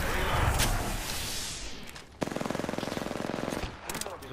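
Automatic weapon fire in the video game Apex Legends: a loud, rapid string of evenly spaced shots after a rushing blast, with a few scattered cracks near the end.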